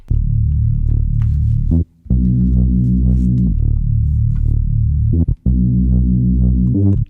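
A thick, buzzing synth bass line plays alone, loud and sustained, with a few brief gaps between long held notes.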